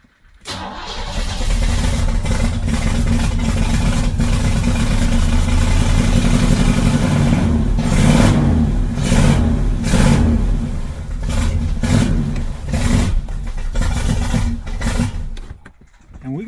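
A 1979 Chevrolet Corvette C3, running rough after a cold start, idles loud and close with a steady engine drone, then rises into uneven revs and surges before cutting off near the end.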